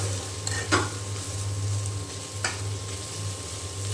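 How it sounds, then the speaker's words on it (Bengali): Spices frying in hot oil in a pan give a steady low sizzle close by, with a few sharp spoon scrapes and clinks against the pan; no one speaks. "আমি মশলাটা একটু ভালো করে আগে তেলের সাথে ভেজে নেব"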